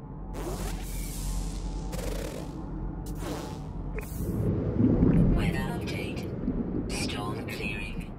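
Thunderstorm in the video game No Man's Sky, a steady roar of rain and rumbling thunder that swells around the middle, with occasional sharp crackling bursts layered over the continuous storm noise.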